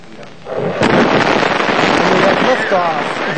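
An ILS Proton rocket lifts off from the Baikonur Cosmodrome in Kazakhstan carrying a communications satellite. After a quiet start comes a sharp burst, then a loud, sustained broadband roar that persists to the end.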